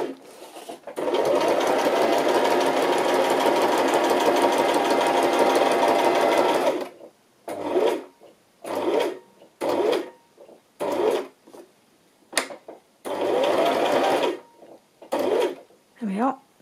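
A sewing machine runs in one long continuous stretch, then in short stop-start bursts for back stitching across a vintage travel journal page; close and loud, with someone speaking between bursts.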